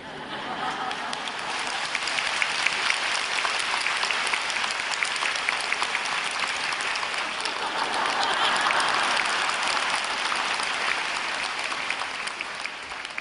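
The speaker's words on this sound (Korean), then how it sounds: "여러분이 박수 치는 것처럼 그들도" Audience applause fills a church during a sermon: dense, steady clapping from a large congregation that carries on without a break for the whole stretch.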